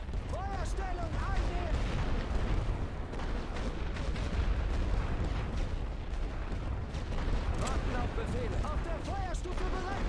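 Artillery barrage in the First World War strategy game The Great War: Western Front, a dense, continuous rumble of booming shell fire and explosions filling the whole stretch, with a few faint tonal effect sounds over it.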